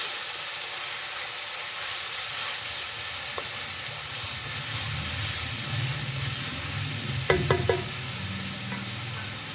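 Onions sautéing in a pan as the base for a Kerala-style crab curry with coconut milk, a continuous close sizzle and hiss with a few sharp scraping clicks near the end, no talking.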